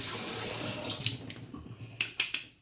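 Tap water runs steadily from a kitchen faucet while meat-prep utensils are rinsed in the sink, a continuous close splash that thins out halfway through into intermittent splashes and clinks.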